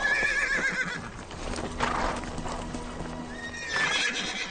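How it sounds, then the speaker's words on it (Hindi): A shiny reddish-brown horse whinnies loudly at the start and again near the end, with hooves clopping in a steady rhythm between the neighs in an action film scene. "वो चमकदार लाल भूरे रंग का घोड़ा सबसे बढ़िया है।"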